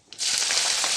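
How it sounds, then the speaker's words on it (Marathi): Peanuts fry in hot oil, a loud bright sizzle that starts abruptly after a small clink and then holds steady, close up and alone. "थोडे आपले शेंगदाणे तळतळ झाले की त्यामध्ये"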